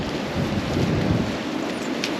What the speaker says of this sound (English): It's a rainy day today